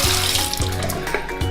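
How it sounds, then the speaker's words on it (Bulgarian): Water runs steadily from a faucet into a sink while a toilet cistern valve part, an Alcaplast AM101 fill valve component, is rinsed under the stream, giving a close, continuous splashing flow. "Значи можем да си го изплакнем."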